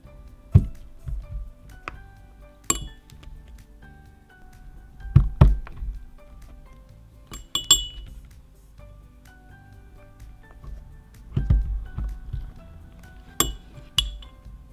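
Small chunks of soap clinking and tapping into a small jug, a series of sharp, close knocks with quiet pauses between them and no talking.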